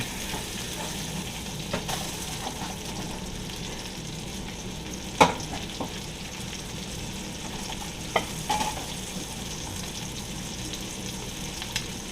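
Pork tenderloin sizzles steadily in a hot pan after being flipped, a constant close frying hiss with occasional sharp pops and utensil clicks, no talking.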